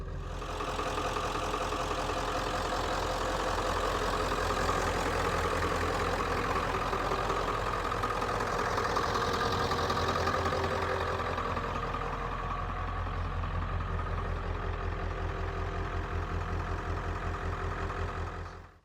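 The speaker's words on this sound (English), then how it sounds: "So truck runs, starts up good." A pickup truck engine idles steadily with a low, even rumble close by, running smoothly for the whole stretch before cutting off at the end, with no talking.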